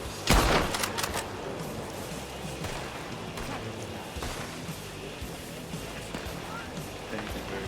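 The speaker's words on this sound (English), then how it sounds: "Yeah, we're here shooting at them." Gunfire in a Western outlaw roleplay game: a loud shot near the start, followed by scattered distant shots over a steady background din, with voices talking faintly.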